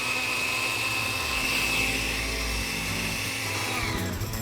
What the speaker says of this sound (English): I'm gonna pulse this, grind it up